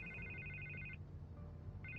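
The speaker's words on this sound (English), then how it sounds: "I can't get the phone to stop ringing." A telephone rings in the Batman Telltale Series video game, sounding as a quiet electronic trill that repeats in a short burst, pauses, then starts again against a low background hum.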